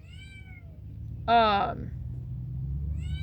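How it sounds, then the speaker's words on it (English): A single clear cat meow, aimed at bugs in a homestead garden, rings out close and bright over a steady low outdoor rumble, with brief speech nearby. "She is meowing at the bugs."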